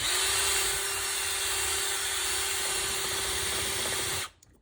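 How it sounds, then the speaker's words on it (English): A power drill whirs steadily at a constant pitch for several seconds, boring holes through the hard plastic air box of a Stihl MS170 chainsaw, then abruptly stops. "So let's drill some holes to it right here."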